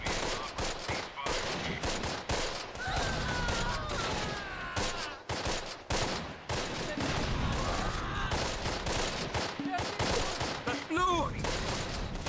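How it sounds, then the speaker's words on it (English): Small arms fire crackles through a Close Combat: Last Stand Arnhem battle, with dense overlapping rifle and machine gun bursts in rapid fusillades. A few brief pauses break the fire, which stays loud and continuous throughout. "So now, a small arms fire."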